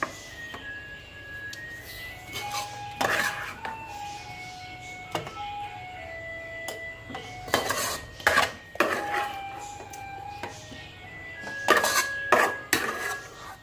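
A spoon scrapes and knocks against a metal pot while boiled rice and coriander are stirred together, in irregular clattering bursts over a faint background.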